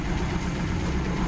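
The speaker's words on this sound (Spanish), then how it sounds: "¿Vieron cómo bajan las revoluciones?" VW Gol G1 car engine idling, a low, steady mechanical hum with slight vibration as the revs sag, close by and without voices.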